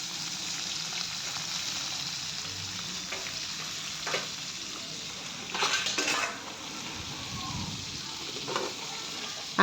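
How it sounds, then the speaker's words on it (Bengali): Koi fish rubbed with turmeric and salt frying in oil in a pan, a constant hissing sizzle with occasional spatters and a few metal clinks and scrapes, heard up close and without talk. "এদিকে কই মাছগুলো ভেজে নিচ্ছি"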